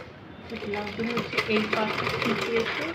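A sewing machine stitches blouse fabric with a steady, close mechanical whir, while someone talks over it throughout.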